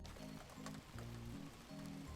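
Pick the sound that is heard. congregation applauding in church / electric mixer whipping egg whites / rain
rain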